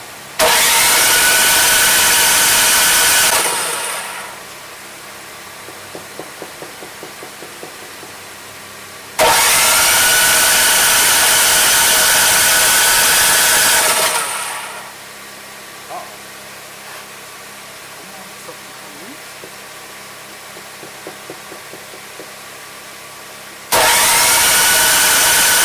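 A Troy-Bilt snowblower engine fires up loudly, runs a few seconds and dies, then restarts twice more, with quieter gaps of faint mechanical clicks between the bursts of close, roaring running.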